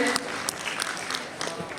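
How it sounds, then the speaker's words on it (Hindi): Short burst of scattered clapping from a college audience at an inauguration ceremony, sharp irregular claps over a noisy hall with voices underneath. "जोरदार ताली बजाओ अपने आप के लिए"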